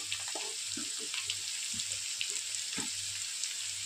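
Taro and potato fry in a pan with turmeric, giving a quiet, continuous sizzle with light scattered crackles and a low steady hum underneath, fairly faint and without voices.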